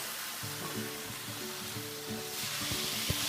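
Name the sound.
stirring egg roll vegetables and sauce in a pan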